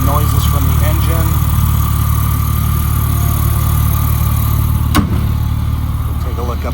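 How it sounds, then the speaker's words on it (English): 2002 Porsche 911 Turbo X50 engine idling steadily with its cooling fan running, a constant close mechanical hum with a single brief click near the end, no talk. "See the cooling fan's operating as it should."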